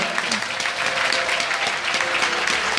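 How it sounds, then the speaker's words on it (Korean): Audience at a Busan welfare rally clapping for candidates, a loud, continuous burst of applause from a sizeable crowd that stays dense and even throughout. "큰 박수 한번 다시 한번 보내드릴까요?"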